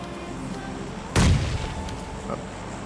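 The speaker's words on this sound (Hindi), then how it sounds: "अब जैसे ही मैं इस बंदे के यहाँ पर नीड फेंकता हूँ" A grenade goes off in PUBG Mobile Lite as a single sharp boom partway through. It stands out loudly against continuous game background noise.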